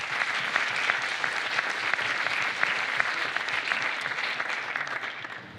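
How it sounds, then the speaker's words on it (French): A public-speaking conference audience breaks into sustained applause, a dense, even wash of many hands clapping steadily throughout at moderate volume, with no voices on top. "Un tonnerre d'applaudissements, s'il vous plaît"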